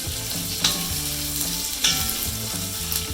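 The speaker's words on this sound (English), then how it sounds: "So I'm just going to add a little bit of onion," Onion fries in a pan for Thai red curry, a bright, close sizzle with a few sharp scraping strokes of a stirring utensil at irregular intervals.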